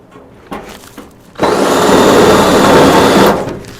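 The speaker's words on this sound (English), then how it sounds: "We're taking a broken off drill bit now and going through, running it backwards" A loud power drill runs a broken-off drill bit backwards through holes to clean them, whirring steadily after a few brief taps and short bursts, grinding for about two seconds before winding down.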